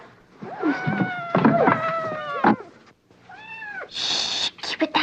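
Cat meowing repeatedly, several drawn-out, rising and falling meows close by, mixed with voices talking over and between them.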